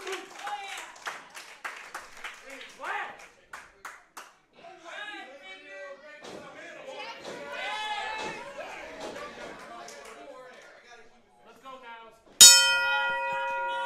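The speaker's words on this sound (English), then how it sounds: "Ladies and gentlemen, the bell has rung." A wrestling match bell at an SICW All Star Wrestling show rings once, loud and close, with a long sustained ring. It follows a stretch of announcer talk and scattered crowd clapping.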